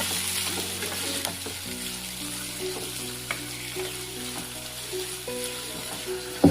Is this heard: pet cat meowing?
no